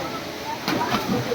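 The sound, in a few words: running tubewell water pouring into swimming pool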